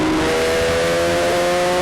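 Westfield race cars stream into Fisherman's corner at Kirkistown circuit, their engines a loud, steady droning whine with no break across the moment.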